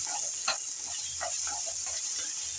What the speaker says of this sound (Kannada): ಕರಿಬೇವು ಹಾಗೆ ಜೀರಿಗೆ ಇದೆಲ್ಲವನ್ನು ಚೆನ್ನಾಗಿ ಎಣ್ಣೆಯಲ್ಲಿ ಫ್ರೈ ಮಾಡ್ಕೊಳ್ಳೋಣ